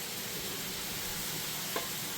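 Kalabasa squash sautés in a pan while cooking a crab and coconut milk dish, giving a steady, even sizzle throughout, broken once by a faint utensil tap near the end.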